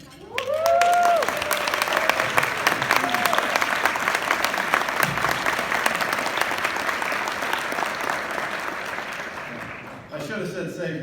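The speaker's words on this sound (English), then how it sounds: "I should have said save your applause" An audience at a payments leadership award presentation breaks into sustained applause, loud, dense clapping that holds for about ten seconds before fading, with a voice briefly audible near the start and again as it dies down.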